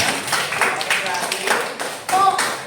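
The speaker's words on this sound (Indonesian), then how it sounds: "tepuk tangan buat Alia" A classroom of students claps briefly for a classmate in scattered, uneven bursts, with a teacher's voice audible around the applause.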